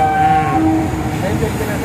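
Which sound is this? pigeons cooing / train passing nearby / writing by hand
train passing nearby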